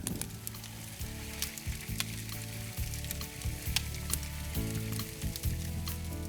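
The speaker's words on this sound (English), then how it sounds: "I got the walleye, and you've done it in the butter, and it's all been coated with Montreal steak spice" Walleye coated in Montreal steak spice frying in butter with beer, a steady close sizzle crackling with sharp pops, with faint music playing underneath.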